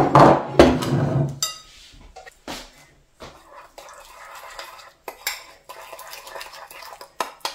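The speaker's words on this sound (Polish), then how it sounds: "I teraz wkładamy ją do naczynia." Chicken breast meat being placed into a dish while cooking at home, with clattering of dishware and utensil knocks, loud at first and then lighter scattered clinks and scrapes.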